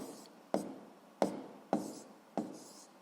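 Pen strokes on paper while working out a physics calculation by hand, a soft continuous scratching broken by four sharp taps at a fairly steady rhythm, close and quiet.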